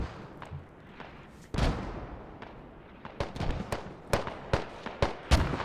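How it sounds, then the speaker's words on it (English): Mortar rounds detonate in the Squad tactical shooter during a tournament match at Hemp Farm, landing as a string of sharp booming impacts. One heavy blast is followed by a rapid cluster of shorter explosions. "mortars top right kill feed, causing a lot of devastation"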